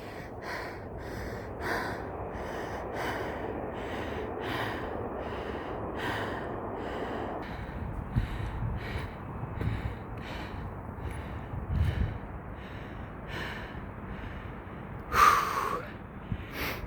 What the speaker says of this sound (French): Je vais essayer de caler ma respiration.